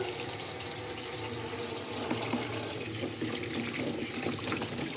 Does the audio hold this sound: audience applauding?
no